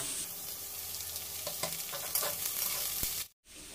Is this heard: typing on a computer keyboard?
no